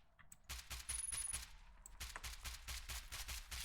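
Assault rifle fire in the video game Phobos Down: rapid automatic bursts of sharp shots, a short burst followed by a longer stream of fire, close and punchy.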